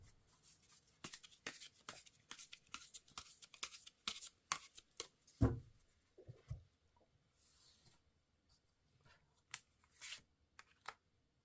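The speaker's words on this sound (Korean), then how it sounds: "이 조언은 타로 카드로 제가 3장을 뽑아보도록 하겠습니다" Tarot cards being shuffled by hand, a run of quick papery riffles and taps close up, then a sharper handling knock, followed by sparser soft card sounds with quiet pauses.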